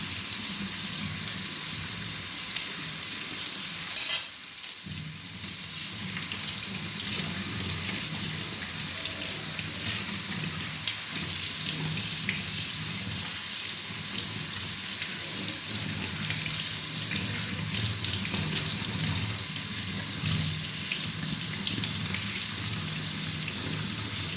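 Cold water running steadily into a conch shell as a continuous splashing trickle, close and moderately loud, with a brief pause around the fifth second and no talk.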